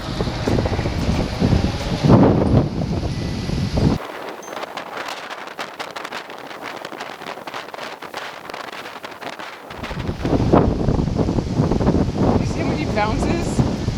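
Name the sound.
strong wind at the beach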